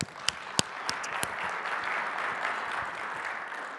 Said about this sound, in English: Let's give them a round of applause here.